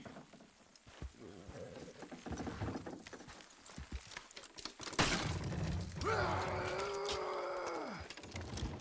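Horses in the Red Dead Redemption 2 video game clop and scuffle amid rough outdoor commotion, with a loud rushing burst midway and a drawn-out animal cry near the end.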